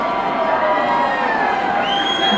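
A crowd cheers and claps at a prize announcement during the Manali winter carnival, a dense, continuous wash of shouting and applause with voices mixed in throughout.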